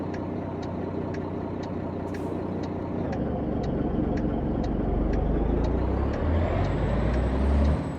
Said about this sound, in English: Does this truck not sound absolutely incredible? It's got the Z-Mods engine pack in it.